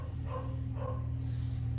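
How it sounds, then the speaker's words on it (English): Two distant dog barks, a short pair spaced apart, heard faintly over a steady low hum. "I sure hope that's not my dog barking"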